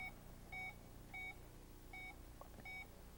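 Alarm system keypad beeping as a code is entered to disarm it, a series of clear electronic tones alternating short and longer beeps, evenly spaced and fairly quiet against low background hum.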